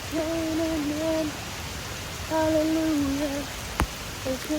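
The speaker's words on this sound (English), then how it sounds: "It's raining and everyone's running." Rain falls at a beach in Martinique, a steady close patter of drops across the whole stretch, joined by a few hooting, owl-like tonal calls and one sharp tap near the end.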